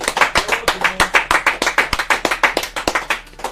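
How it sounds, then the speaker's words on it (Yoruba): A crowd claps in quick, uneven bursts of sharp, close hand slaps that keep a loose, lively rhythm without speech. "ẹ bá pàtẹ́wọ́ yẹn"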